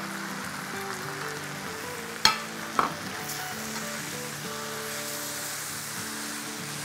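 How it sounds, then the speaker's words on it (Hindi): Chicken with turmeric, garam masala and chicken bouillon powder fries in a pot over medium heat, a steady close sizzle broken by a couple of sharp stirring clanks. "इसको बस हम 2 मिनट भून लेते हैं अच्छे से"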